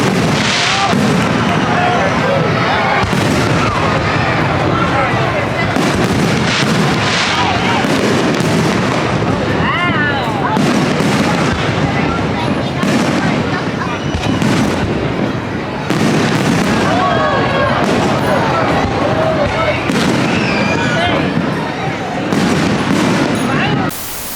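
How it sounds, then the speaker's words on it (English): A fireworks show goes off in a dense, continuous barrage of booms and crackling bursts, loud and sustained, with crowd noise and voices mixed underneath. "finally the fireworks started this time."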